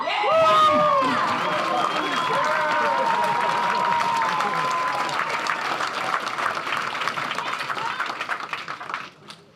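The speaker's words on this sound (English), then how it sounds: "Give a big round of applause for Mr. Jason Strachman-Miller!" An audience at a comedy show claps and cheers for a comedian as he takes the stage. The applause starts loud under a fading announcer's voice, then holds as a dense, steady roar before tapering off at the end.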